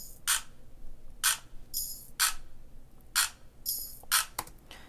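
High-pitched drum machine claps layered with tambourine, a sparse pattern of sharp bright hits about once a second with shimmering jingles between some of them, clean and isolated, with no voices.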